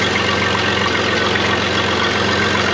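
A 2006 Pontiac Montana minivan engine with exhaust leaks idles loudly and steadily up close, with a rapid ticking, puffing pulse running through the rumble.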